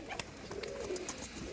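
Pigeons coo softly and steadily at close range, with scattered sharp clicks and rustles around the low murmuring calls.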